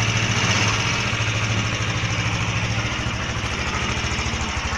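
A motorcycle engine runs steadily after a partial rebuild, a loud, close, continuous idle with a regular low thumping pulse and mechanical vibration throughout, no speech.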